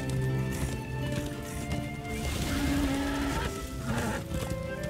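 Horse galloping in the video game Darksiders II, a steady dense rumble of hoofbeats blended with continuous game music and effects at a fairly loud level throughout.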